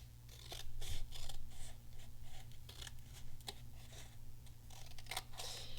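Scissors snip through small pieces of paper close up, a quick irregular series of crisp cuts, some paired, over a faint steady background hum with no voices.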